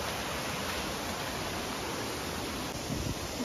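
Waterfall in the Garo Hills of Meghalaya, a dense continuous rushing wash of water with an even, unbroken level and no voices.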